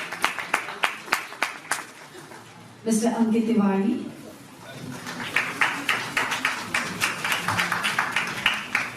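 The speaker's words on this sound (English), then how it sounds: "Huge round of applause, each and dignitaries" Steady, evenly paced claps from an audience greeting dignitaries at a Mumbai festival announcement event, loud and close, with a voice over the PA announcing a name in the middle before the clapping resumes.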